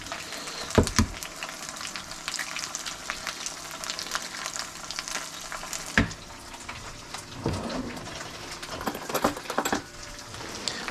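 Chorizo and scrambled eggs fry in a pan, giving a steady, fairly quiet sizzle broken by occasional scrapes and clatters of a utensil, close by with no talking.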